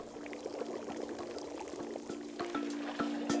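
In a video game, tea pours steadily into a cup in a light trickling stream over a low electronic hum, with a few soft clicks; no talking.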